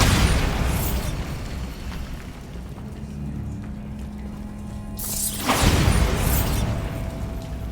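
Bombarda blasting spell explosions in the Hogwarts Legacy video game, a loud roaring blast that fades into rumbling debris, followed a few seconds later by a second sharp explosion and roar.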